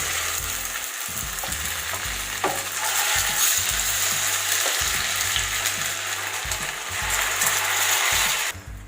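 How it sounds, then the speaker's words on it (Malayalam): Chicken pieces sizzle in hot butter in a pan with a constant crackling hiss, while a low mechanical hum pulses repeatedly underneath. "അതിലേക്ക് ചിക്കൻ ഓരോ പീസായിട്ട് വറുക്കാൻ വെച്ചു"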